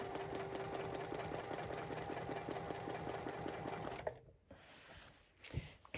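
A Juki TL-2010Q sewing machine quilting with rulers runs in a steady, rapid mechanical stitching rhythm for about four seconds, then stops abruptly, leaving quiet handling noises.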